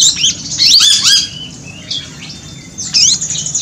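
A yuhina in an aviary gives close, bright chirping calls in quick bursts, several sharp rising and falling notes grouped at the start and again near the end, with quieter rustling in between.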